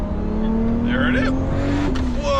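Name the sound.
Toyota Supra MKIV big turbo car accelerating hard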